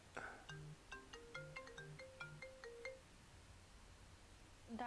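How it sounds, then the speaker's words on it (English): A short electronic ringtone melody plays, a quick run of bright tonal notes for about three seconds, fairly quiet, followed by near silence. "So many phones ring like that"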